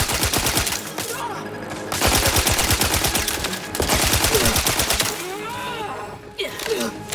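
Rapid automatic gunfire in a sci-fi shooter game, loud dense bursts in long rhythmic strings broken by short pauses, with game voice lines and effects mixed in.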